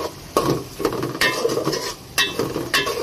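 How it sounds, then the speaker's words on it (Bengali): Onions fry in a pan at close range with a soft sizzle, broken by several sharp scrapes and clinks of a utensil against the metal as they are stirred. "পাশাপাশি আমি এই যে পেঁয়াজটাও ভাজতে দিয়ে দিলাম।"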